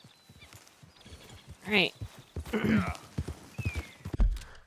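Horse hooves clip-clopping in Red Dead Redemption 2, a few uneven thuds close by, with someone talking over them.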